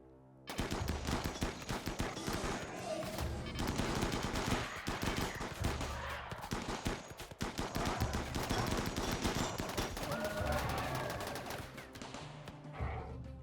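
Rapid, continuous bursts of gunfire from defensive turrets and combat mechs in the video game RimWorld, rattling machine-gun fire layered with sharper single shots that stay loud and busy almost throughout.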